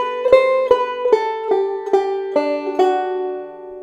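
Banjo picking a slow phrase of The Star-Spangled Banner, about eight bright plucked notes ringing in an even rhythm, close and clear with no talking.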